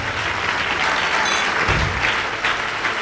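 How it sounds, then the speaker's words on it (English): An audience at a church service breaks into sustained, dense applause, loud and continuous for the few seconds heard, with no voices over it. "Let's clap hands."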